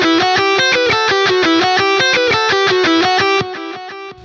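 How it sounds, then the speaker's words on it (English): A distorted electric guitar plays a harmony line of a lead riff in a minor key, a quick steady stream of picked notes that rings loud and bright, then a short tail as the last note decays. "We move all of the notes 2 steps up the minor scale and get this harmony."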